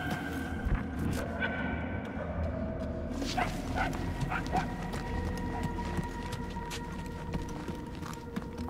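A dog barks in short, distant yips and whimpers in a Guardians of the Galaxy video game scene, heard faintly over a low ambient game soundscape with scattered clip-clop steps.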